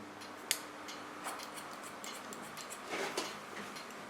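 Scissors snip hair during a short pixie cut, giving quiet, sparse crisp clicks spread through a few seconds of calm room sound.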